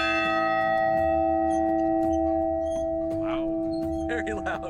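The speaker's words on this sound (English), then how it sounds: "This is a replica of the Liberty Bell that you can actually ring." A replica of the Liberty Bell, crack included, is struck and rings loudly with a long sustained metallic hum, its tone hanging through the whole stretch while people talk faintly nearby.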